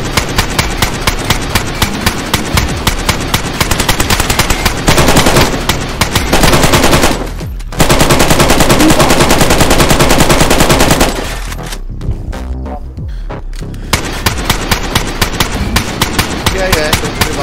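Rapid automatic gunfire rattles in long, loud bursts during a DayZ base raid, broken by brief pauses and quieter stretches before the firing resumes, with players talking over it.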